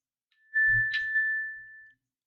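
A Xsutic smartwatch plays its find-my-watch alert, a steady electronic tone held for about a second and a half with a brief tick partway, quiet and close with no talking.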